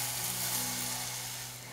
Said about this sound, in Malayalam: ഇത് നമുക്ക് ഒരു ചട്ടിയിലേക്ക് ചേർത്ത് കൊടുക്കാം.